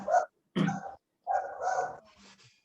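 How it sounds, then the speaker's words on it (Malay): A dog next door barking in a few loud, close, separate barks with short gaps, followed by a softer trailing whine, with no talking. "Anjing sebelah rumah pun masuk."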